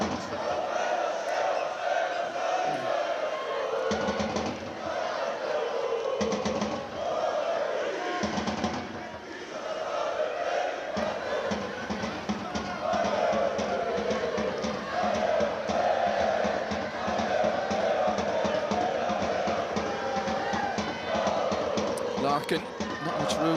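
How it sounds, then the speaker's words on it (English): A stadium crowd roars and chants throughout a women's Euro play-off match between Georgia and the Republic of Ireland, a loud, sustained swell of voices under steady commentary. "The crowd found their voices."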